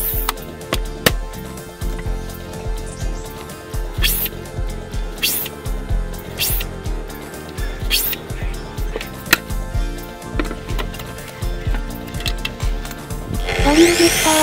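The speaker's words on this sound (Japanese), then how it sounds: "クリアのアクリル板の切断。" A power tool cuts through a clear acrylic sheet meant for the side panel of a small cube-style homemade PC case. It gives a harsh, buzzing whine in repeated bursts, loud and close, with a faint scrape at the end.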